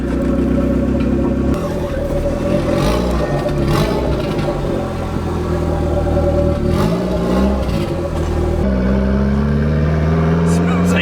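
Turbocharged Honda Civic engine with straight gas and exhaust revving hard and close, rising and falling engine pitch through most of the span, with voices talking over it.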